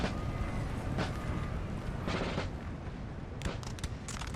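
Musket volleys in Napoleonic Total War 3 crackle and pop in scattered bursts over a constant, dense battlefield roar, with sharper clusters of shots near the end.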